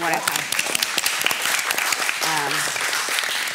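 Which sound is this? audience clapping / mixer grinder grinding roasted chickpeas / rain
audience clapping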